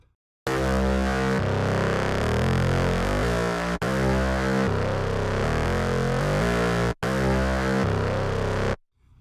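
Tight, overdriven synth bass patch playing a sustained, loud riff in held notes with brief gaps between phrases, heard alone.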